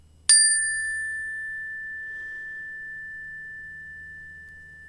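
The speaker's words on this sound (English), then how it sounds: "at the sound of the chime, I invite you to slowly bring yourself back into the room." A single meditation chime is struck once, a bright metallic ring that sustains and fades slowly over several seconds in a quiet room.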